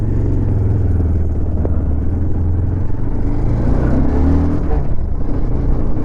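A Bajaj Pulsar 220F motorcycle's exhaust, a loud, close, continuous low engine rumble that holds steady for several seconds with slight rises in pitch as it revs, and no talking over it.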